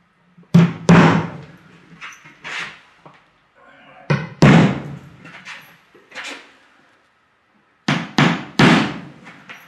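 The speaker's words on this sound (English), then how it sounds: "I took a lovely 4-inch nail, I knocked it into the plywood on each point" A 4-inch nail is hammered into plywood on a workshop floor, several sharp close blows in groups of two or three with short pauses between.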